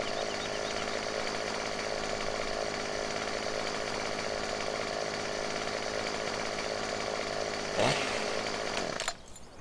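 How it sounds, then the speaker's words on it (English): A chainsaw running in Farming Simulator 17 drones steadily and loudly at an even pitch for most of the stretch, with a brief rev near the end before it cuts off. "Can't run with the chainsaw in his hand for some reason, turn the chainsaw off."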